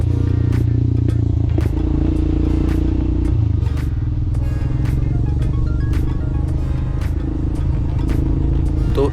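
A motorcycle rides a mountain road on the way to Hemkund Sahib, recorded from a helmet camera: a steady, loud engine drone runs throughout, with intermittent clatter and ticks of the bike over the rough surface and no talking.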